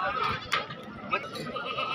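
A goat at a livestock market bleats briefly a couple of times amid a busy crowd, with people talking close by over the animal calls.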